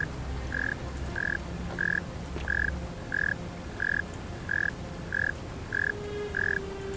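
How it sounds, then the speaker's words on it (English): A frog croaks in the video game The Forgotten City, a steady series of about ten evenly spaced, moderately loud croaks over low ambient background with no talk. "Where's this frog at?"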